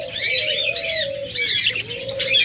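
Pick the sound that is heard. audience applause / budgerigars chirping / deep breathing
budgerigars chirping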